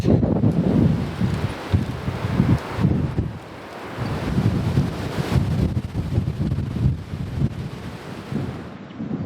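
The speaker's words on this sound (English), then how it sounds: "I've retired into my shelter as that storm comes to hit." Gusty wind ahead of an approaching thunderstorm in the Australian bush, heard from inside a primitive shelter: heavy rumbling buffeting with rustling, surging and easing in uneven waves, close and loud, with no voices.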